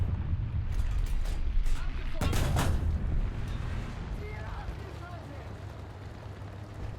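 A heavy King Tiger 105 tank cannon blast in War Thunder booms out partway through, followed by rumbling game ambience and a distant muffled explosion; no talking over it.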